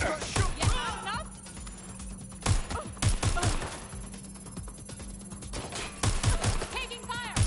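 Gunfire in the video game Watch Dogs: Legion, with bursts of sharp, loud shots in repeated clusters and a steady electronic hum underneath, with occasional game voices mixed in.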